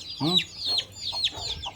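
Young Silkie and Desi chicks chirp and cluck nearby in a quick series of high calls, one clearer peep standing out at the start, with faint background noise.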